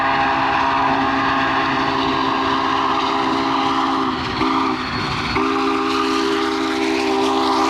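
The 52-year-old Union Pacific 844 steam locomotive runs west towards Cheyenne after a season of 1996 excursions. A loud, continuous rumble of rail and engine lasts throughout, with a steady, droning multi-tone whistle held over it that dips briefly partway through.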